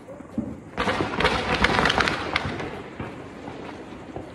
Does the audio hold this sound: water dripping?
no